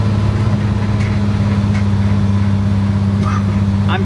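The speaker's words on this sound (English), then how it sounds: "the motor's peppy, it's an inline six" Inline-six overhead-cam engine of a 1964 Willys Wagon runs steadily during a test drive, a continuous low drone with interior rumble throughout and no talk over it.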